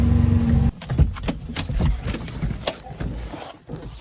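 A red ZAZ Zaporozhets car rolls to a stop: engine drone cuts off abruptly, followed by close rattles, clunks and jangling knocks from the small car's body and interior.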